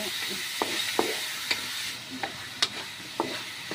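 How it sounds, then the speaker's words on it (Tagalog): Chicken for tinola sautéing in a pan, with sharp spatula scrapes at irregular intervals over a soft, steady sizzle, close by and with no speech. "Igisa lang natin ng konti."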